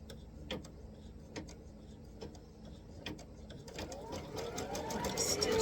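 A sewing machine stitches a quilt block into place with soft, intermittent mechanical ticks and clicks that build into a denser run near the end, quiet and close.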